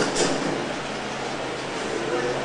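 A subway train on a 1989 film set sound stage arrives with a steady, moderately loud rumble and rolling noise. A faint murmur of voices sits underneath.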